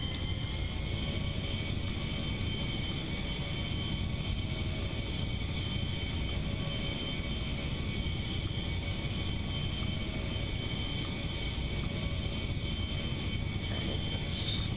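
A Me262 jet plane flies in BeamNG.drive, its engine a steady, loud, continuous roar with a whining high tone, unbroken throughout with no talk over it.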